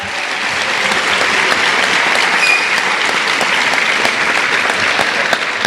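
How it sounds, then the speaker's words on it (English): Loud, sustained applause from an audience at the Tomball ISD A+ Academic Awards ceremony, dense steady clapping filling the room for the whole stretch with a few sharper claps on top. "Can we give everybody another round of applause?"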